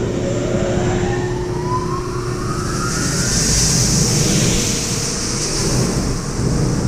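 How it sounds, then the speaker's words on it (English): The blower of a VIRTUS SG 1400 shredding system for plastic film spins up with a rising whine over a loud, steady broadband rush of air that fills the space throughout. "First, I'm going to turn on the blower."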